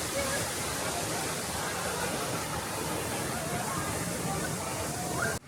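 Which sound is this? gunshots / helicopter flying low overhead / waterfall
waterfall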